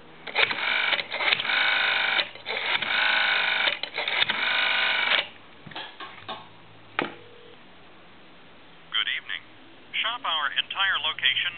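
An ITT rotary desk telephone on a regular line, with bursts of dialing clicks and ringing tones, followed by a pause and then a short stretch of someone talking.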